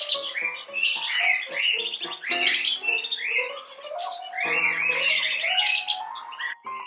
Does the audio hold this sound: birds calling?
yes